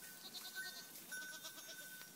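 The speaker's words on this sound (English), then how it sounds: "Called everybody. Here they come." A herd of goats arriving outdoors, with several faint, overlapping bleats spread across a couple of seconds among light ambient noise.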